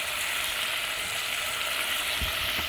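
Beef sausage browns in a lightly oiled pan for jambalaya, giving a dense, even, loud hiss that runs unbroken from start to end.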